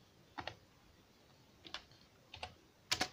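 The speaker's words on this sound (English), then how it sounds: "After typing the password" Four short clusters of computer keyboard key clicks, close and quiet, separated by pauses, with no talking.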